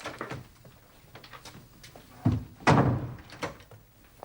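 A door thuds shut indoors at night, two heavy knocks close together amid soft shuffling and small handling sounds in a quiet room.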